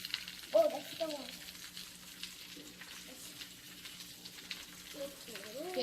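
Food sizzles and fries in a pan during a kids' Korean home-cooking session, a steady crackling hiss with occasional stirring, while children talk over it close by.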